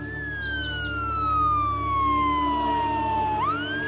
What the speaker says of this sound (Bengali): বাইরে আবার পুলিশের গাড়ির শব্দ